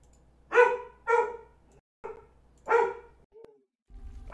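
A dog barks close by, three sharp loud barks in quick succession, then a shorter bark and a small yip, with brief quiet gaps between them.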